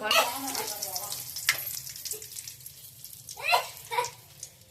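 Curry leaves drop into hot oil in a pan, making a close, crackling sizzle with sharp spitting bursts while someone talks over it.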